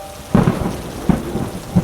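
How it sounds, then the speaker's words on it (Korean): Thunder rumbles through heavy rain, with three deep booms spaced about a second apart rolling over a steady wash of downpour in a dramatized storm scene. No voices are heard. "뒤늦게 번개를 따라온 천둥이 사방에 울려 퍼졌다."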